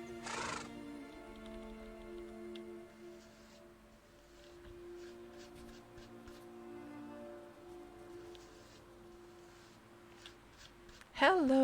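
A horse whinny sound effect in a kingdom-building video game opens loud with a short neigh, then fades under a long stretch of soft background music, with a sharp, bright whinny returning right at the end.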